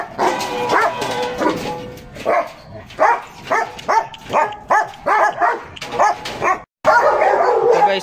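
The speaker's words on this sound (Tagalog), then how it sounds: "isa sa pinakamalaking aso dito. Natakot niyo ba itong nasa gilid ko? Napakalaking aso nito." A very large K9 dog barking repeatedly, loud and close, in a rhythmic series of deep woofs with short gaps, mixed with a few whimpery yips.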